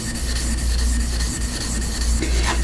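A spokeshave blade rubbed back and forth on a cheap water stone while being polished, a close, loud, continuous grinding scrape with regular stroke pulses.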